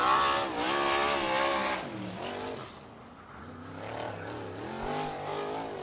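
USAC sprint car lapping Lincoln Park Speedway, its engine note rising and falling loud and close through the corners, then fading and swelling again as the car comes back around the oval.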